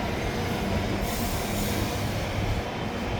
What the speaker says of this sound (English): Just in time for the eastbound train.